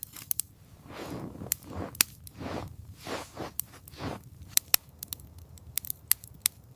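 Campfire crackling in a snowy winter camp at Whistler, Canada, with sharp irregular pops and snaps over soft hissing flames, close and fairly loud, no talking.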